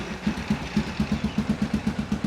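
Suzuki King Quad 750 ATV engine idling low and steady after a top-end rebuild, with a regular loping pulse of firing beats close by, no talk.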